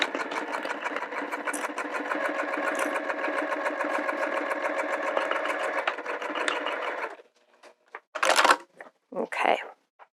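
Sewing machine stitching a TPU vinyl zipper pouch, a fast steady mechanical chatter for about seven seconds, then stopping, followed by a few short rustles and handling noises.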